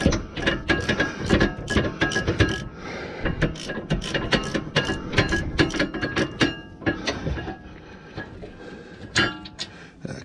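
A ratchet clicks in quick bursts while loosening a rear brake carrier bolt on a 2017 Jaguar XE 2.0 diesel, with repeated close, crisp mechanical clicking and short pauses between strokes.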